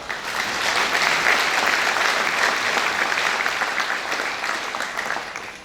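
A dense, steady round of applause from a luncheon audience at an agricultural exhibition awards event honoring its executive board, loud and sustained for several seconds with no talking over it.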